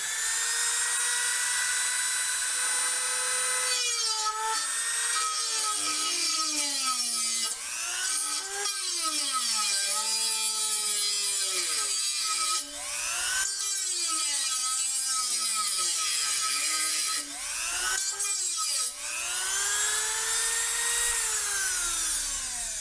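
During a 1947 MG TC rebuild, a Dremel rotary tool's cutoff wheel grinds through metal, whining high and loud with repeated pitch dips as it bites into the cut, close and continuous.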